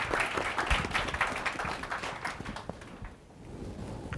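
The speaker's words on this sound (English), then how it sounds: "if you don't mind giving a round of applause to our panelists" An audience claps for the panelists at the close of a panel discussion on teacher selectivity and diversity. Dense, steady applause thins out and dips near the end, then picks up faintly again.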